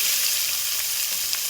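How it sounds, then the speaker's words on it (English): Red onions sizzle in hot oil in a pan, a dense, even hiss that stays loud and steady throughout with no talking. "hear that sizzle?"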